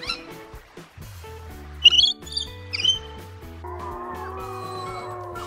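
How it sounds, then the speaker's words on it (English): A parrot gives a few short, high squawking calls over a steady background music track. The calls come in brief bursts partway through, and the music then carries on alone. "Parrot."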